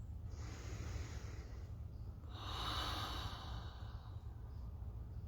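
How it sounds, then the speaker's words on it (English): Slow deep breaths during an autumn forest-bathing walk, a long exhale followed by a fuller inhale, close and soft over a low steady background hum. "Let's take a few deep breaths together."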